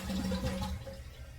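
A household toilet flushes and then refills, a steady rushing wash of water with a low gurgle underneath that gradually thins out, heard alone and fairly close.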